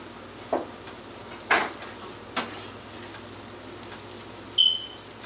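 Butter melting in a frying pan while vegan chopped cheez is cooked, giving a soft, steady low sizzle under a few sharp utensil taps and clinks, then a brief high electronic beep near the end, with no talking.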